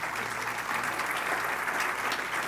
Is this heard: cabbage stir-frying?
no